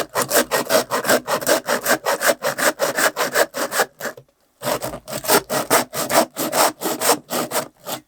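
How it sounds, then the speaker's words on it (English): A handsaw works through pork rib bones in a steady, even run of close rasping strokes, pausing once briefly before resuming at the same rhythm. "get my handsaw, okay, very lightly, just kind of wiggle my way through"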